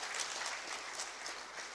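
An audience at a youth dialogue on the maritime and shipping industry in Mombasa claps together, a dense, even burst of applause heard close up for a brief moment.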